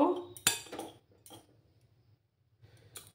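A spoon mixing rice flour into paneer pakora batter in a bowl, a few sharp metallic clinks and scrapes close by, then a quiet stretch, with soft low background hum and a final clink.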